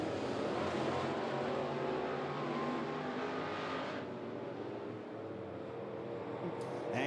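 Sportsman race cars lap 411 Motor Speedway in a continuous, rumbling engine roar from a pack on track, with a commentator talking over the noise.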